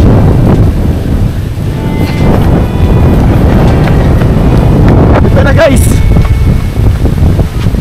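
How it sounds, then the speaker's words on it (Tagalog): Heavy wind buffets the microphone in a constant low roar near the sea, with a voice speaking briefly beneath it. "Grabe ang hangin po mga kalingap."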